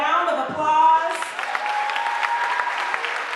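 An audience at a school Founder's Day ceremony claps for the head of school, a steady moderate round of applause that follows a brief spoken moment.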